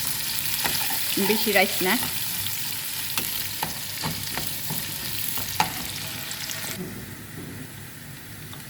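Chopped onion sizzles in a pan for Kashmiri pulao, a steady frying hiss with scattered stirring clicks, while a voice speaks over it near the start.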